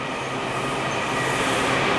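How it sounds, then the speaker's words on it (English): Washington Metro Orange Line subway train bound for Vienna, running loud and close with a steady roar and rumble of wheels on rail, no voices over it. "Orange Line train out to Vienna."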